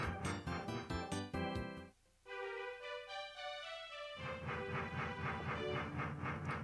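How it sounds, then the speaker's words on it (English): Paper Mario train ride music and effects play, with bright chiming tones and rhythmic chugging, then a brief hush before a melodic passage and the fuller sound returns, no voices. "At that nice little train ride that we had."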